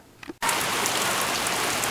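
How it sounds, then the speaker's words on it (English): Heavy pouring rain, a loud steady hiss of drops on surfaces that begins abruptly after a brief quieter moment and continues unbroken. "And it's pouring rain again"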